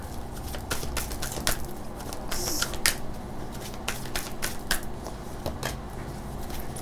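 Tarot cards being shuffled by hand: repeated quick papery flicks and soft riffles in an irregular rhythm, close and fairly quiet, with no talking.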